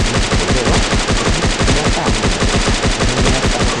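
Rapid, loud automatic submachine gun fire in a video game, in continuous bursts, a fast regular rattle of shots filling the whole stretch.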